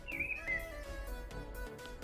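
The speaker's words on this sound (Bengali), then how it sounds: "খুবই সুন্দর করে পাখি ডাকছে।" Small birds in a home vegetable garden give whistled chirps and tweets, with a sliding call at the start over a soft continuous background of birdsong.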